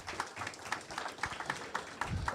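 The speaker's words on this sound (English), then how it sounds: "give you guys a round of applause for all the hard work" Applause for a team at a weekly meeting: a faint crowd of people clapping steadily, with individual claps blurring into a continuous patter, heard from a distance.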